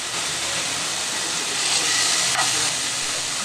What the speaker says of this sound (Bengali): এইভাবে চিকেনটাকে অল্প তেলে একটু ফ্রাই করে নেব।